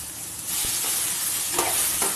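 An eggplant mixture is stirred in a little oil in a wok, giving a steady close sizzle with a few soft scraping strokes of the spoon.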